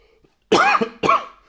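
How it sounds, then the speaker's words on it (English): Two sharp coughs close to the mic, one long and one shorter, separated by a brief pause. "sorry about the sniffling and coughing today."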